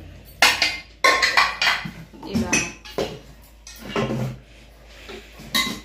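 Metal pressure cookers and their lids being picked up, set down and clanked together in a series of close, sharp knocks and rattles, with a voice talking throughout.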